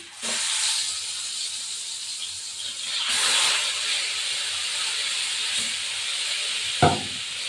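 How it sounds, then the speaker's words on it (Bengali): Small chapila and carp fish sizzle in hot mustard oil in a frying pan, a steady broadband hiss with a brief louder burst near the end. No one speaks. "এইগুলো এখন তেলে ভাজবো"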